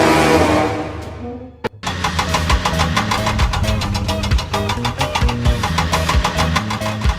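A cartoon crane truck's engine starts up after a brief quiet moment and then runs steadily, loud and close, with a chugging, rhythmic mechanical pulse and no talk over it.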